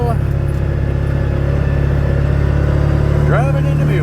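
A Mule utility vehicle's engine runs steadily while driving around a rural homestead, a continuous loud low drone with a voice and an adult talking over it.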